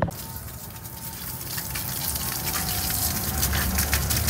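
Water is sprayed onto building walls to wet them before plastering, making a steady, continuous rushing hiss that holds at an even level throughout with no talking.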